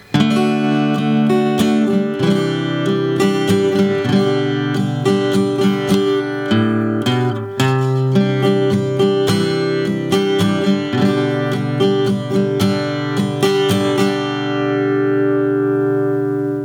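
Guitar chords from a song are strummed in a steady repeating rhythm through a slow progression, loud and close, with no talking, fading out at the end.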